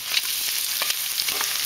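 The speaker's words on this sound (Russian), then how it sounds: "Бросаем лук и продолжаем жарить." Chopped onion sizzling as it fries in a pot of borscht cooked outdoors over a grill: a dense, steady crackle with small pops and some stirring, close and even throughout.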